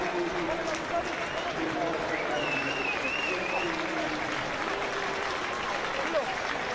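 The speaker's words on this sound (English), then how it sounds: "good round of applause from all concerned" Crowd at the 2014 Tonga v USA rugby international applauds as substitutes come on, a steady distant patter of clapping under a commentator's talk.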